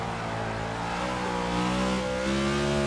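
A NASCAR race car in Forza Motorsport 6 revs hard, its engine note climbing steadily in pitch as it accelerates, loud, close and continuous with no talk over it.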